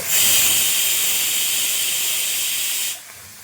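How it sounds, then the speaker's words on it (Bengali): Dry red chillies fry in hot oil, giving a loud, continuous close-up sizzle and hiss that cuts off abruptly near the end; no one speaks. "এর মধ্যে বেশ কয়েকটা শুকনো লঙ্কা দিয়ে ভেজে তুলে নেব"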